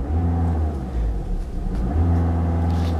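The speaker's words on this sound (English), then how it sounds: "I mean, there's engine noise, but it's fairly quiet for what it is" A 2014 Volkswagen Jetta TDI diesel engine hums steadily from inside the cabin, a low harmonic drone that dips briefly then swells again as revs rise.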